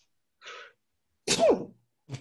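A single sharp human sneeze, close and clear, preceded by a short soft breathy intake and followed by a brief faint sound, in an otherwise quiet room.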